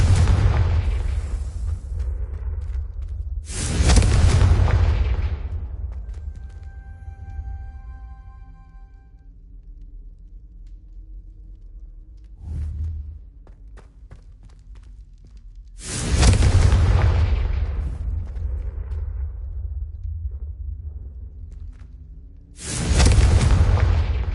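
Confringo spell blasts in the video game Hogwarts Legacy, several loud booming explosions bursting in separate groups with quieter magical whooshes and hums between them, no talk.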